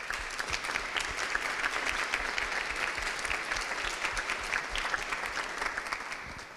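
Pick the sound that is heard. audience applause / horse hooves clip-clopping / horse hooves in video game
audience applause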